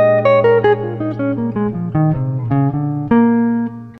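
A jazz blues lick over rhythm changes, a quick run of single melodic notes moving down and back up over a held low note, close and clear with no voice.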